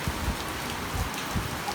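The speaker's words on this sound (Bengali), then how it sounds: "বৃষ্টি কেমন লাগতেছে?" Steady rain falling and pattering on a surface, a continuous broadband hiss with soft low thumps, even and close, no voices.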